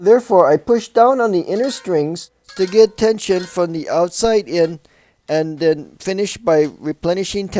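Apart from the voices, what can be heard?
No distinct noise like a dog, phone or traffic.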